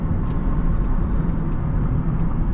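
A 2005 Honda Pilot EX-L accelerates on the road, heard from inside as a steady, loud low engine and road drone with faint ticking above it, and no talking.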